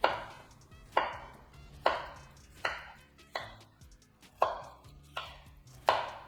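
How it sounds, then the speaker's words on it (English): A knife chops jalapenos on a cutting board in a kitchen, with about nine sharp, evenly spaced strokes that sound close and crisp, and no talking. "I'm cutting jalapenos"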